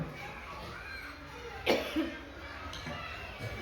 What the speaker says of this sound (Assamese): মই জানো যে মোৰ কাহ হৈ আছে